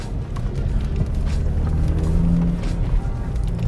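A BMW F30 335 with an F80 M3 DCT shifter fitted is driven out of a garage, its engine a steady low rumble held close and fairly loud the whole time.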